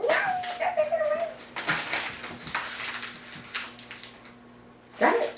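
A puppy whimpers and lets out a few high yips, mixed with rustling and a person's voice nearby, ending in a short squeal.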